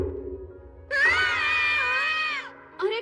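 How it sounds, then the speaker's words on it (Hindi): Two cartoon characters let out a long, loud, wavering scream together, followed by a short second burst of screaming. "तुम दोनों चिल्ला क्यों रहे हो?"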